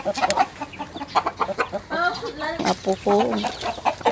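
Chickens cluck close by in short, busy bursts, with a person speaking briefly among them.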